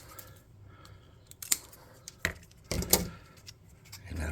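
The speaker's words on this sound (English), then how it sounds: "Then we'll snip off the excess." Scissors snip excess material from a handmade model hot-air balloon basket in a few quick, close, crisp cuts spread irregularly over several seconds in a quiet room.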